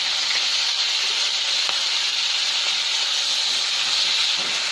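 Ginger garlic paste frying in a pan for egg curry, a loud, continuous bright sizzle heard up close and alone.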